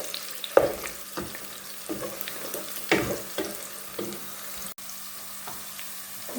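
Onions browning with two green chillies in a pan, an even sizzle broken by intermittent stirring scrapes and knocks, close and fairly quiet, no talking.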